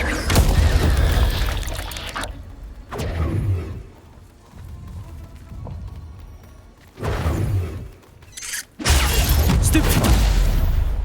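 Blasting Confringo spell explosions from the wizarding video game Hogwarts Legacy, several loud booming bursts separated by quieter rumbling stretches, the final blast sustained and heavy.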